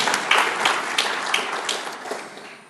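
Applause from an audience at a project management presentation, a dense steady patter with a few sharper claps on top, gradually thinning and fading toward the end.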